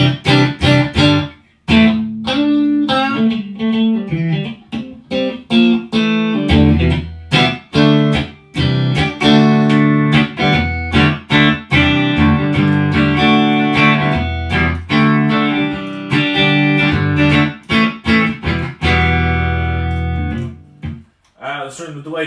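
A distorted electric guitar, driven by a Nobels ODR-1 overdrive, plays through a Boss DD-2 digital delay pedal with effect level raised, a continuous run of chords and single notes, each bathed in delayed repeats that blur into the next.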